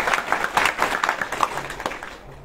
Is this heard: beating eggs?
no